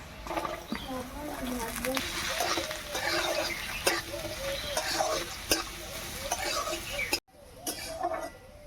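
Chopped potato and carrot tossed into a hot oiled pan with bay leaves, sizzling steadily while a spoon stirs and scrapes in repeated strokes, someone talking throughout, with a brief drop near the end.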